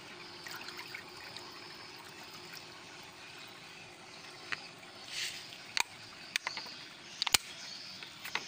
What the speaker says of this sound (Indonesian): Kita aduk ya, agar bisa merata ya.